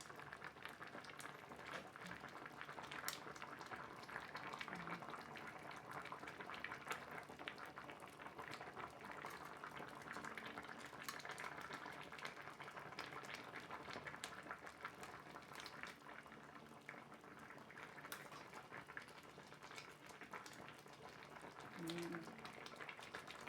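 A pot of vegetables boils on the stove, giving a steady, continuous bubbling and rolling hiss at moderate volume throughout.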